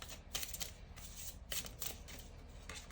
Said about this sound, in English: Let's pull 2 more cards.